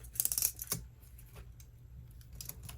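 Scissors cut the paper flap off a journal envelope pocket in a cluster of crisp, close snips at the start, followed by fainter scattered paper rustles and clicks.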